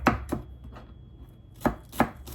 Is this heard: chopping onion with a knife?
yes